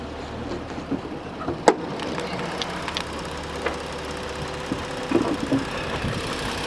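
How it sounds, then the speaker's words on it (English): A Ford Explorer Police Interceptor with the 3.7 V6 engine idles steadily at moderate volume, a low continuous hum with a few faint clicks and knocks on top. "This is the engine, very nice and smooth, no funny noises"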